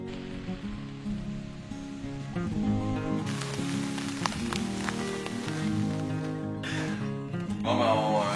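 Rain patters steadily on a surface at night after a bear hunt in wet weather near a chalet, a soft continuous hiss with tonal background sounds mixed in.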